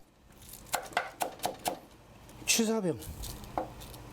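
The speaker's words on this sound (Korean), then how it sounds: "칼질이 꽤 능숙하죠" Knife chopping food on a board during meal prep by an army mess cook, five crisp evenly spaced cuts up close, then a brief voice speaking and one final chop.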